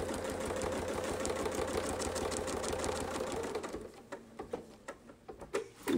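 A sewing machine stitches a quilting circle along a Westalee Mini Baptist Fan template, running in a fast, even whir for several seconds, then stopping into a few scattered clicks and handling noises.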